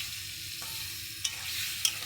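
Marinated lote (Bombay duck) fish hitting hot oil with cumin seeds, a steady close sizzle broken by two small clicks of a utensil.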